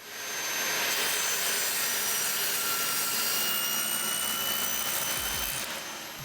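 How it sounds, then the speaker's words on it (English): A power tool cuts tenons in wood for an old table, producing a loud, steady high-pitched whine that holds evenly for several seconds before tapering off. "I can go on and cut the tenons."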